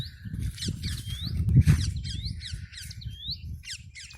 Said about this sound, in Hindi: पक्षी की आवाज़ सुनो।